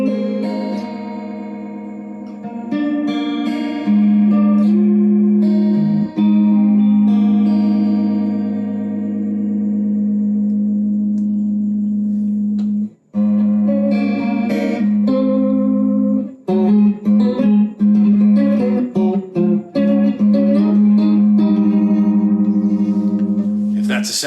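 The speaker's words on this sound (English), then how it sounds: "we can pick up the speed a little bit and get into some of that Leslie stuff that we love, the rotating speaker bit" An electric guitar runs through a Strymon Ola chorus pedal set to a fast, Leslie-like rotating speaker effect, sustained notes and chords warbling and shimmering, loud and close, with strummed passages after a brief pause.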